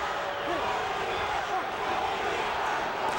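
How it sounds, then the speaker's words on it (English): A boxing crowd at a 2003 USA versus Puerto Rico amateur dual meet roars in a steady, dense wash of cheering that holds loud and unbroken throughout. "The cheer goes up."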